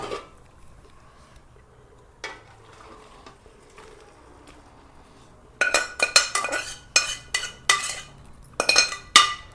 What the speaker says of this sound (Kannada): ಈಗ ಒಂದು ಪಾತ್ರೆ ತಗೊಂಡು ಇದನ್ನು ಫಿಲ್ಟ್ರ್ ಮಾಡ್ಕೋಬೇಕು.